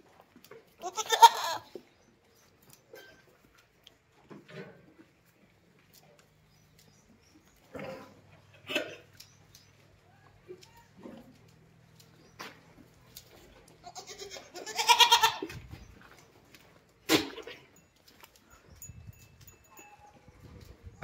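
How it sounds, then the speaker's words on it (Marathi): Goats kept on a farm bleat intermittently, a few loud, close calls spread out among quieter bleats and long pauses of near silence. "ह्या दोन्ही बकऱ्यांना आम्हाला बांधून ठेवावं लागत असतं."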